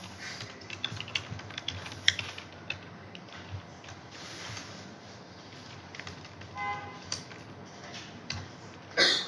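Typing code on a computer keyboard, a quiet run of irregular key clicks and taps close by, with a few louder presses near the end.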